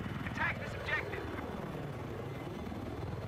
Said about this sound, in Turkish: Dönüyor ya helikopter.